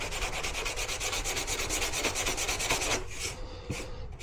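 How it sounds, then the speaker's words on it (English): Sandpaper rubbed back and forth along the edge of a board during a quick repair, a steady rhythmic scratchy rasp of repeated close strokes, fairly quiet, with a few final lighter strokes after about three seconds. "I'm going to put a little bit more sandpaper on there. Keep that edges all roughed up."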